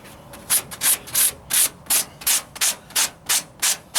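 Rhythmic scratchy sanding strokes, about a dozen steady back-and-forth passes rubbing across a hard surface, close and loud with no talking.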